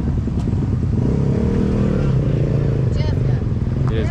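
A brand-new Polaris RZR turbo buggy engine runs loud and steady throughout, with a rough, continuous drone, while people talk over it outdoors.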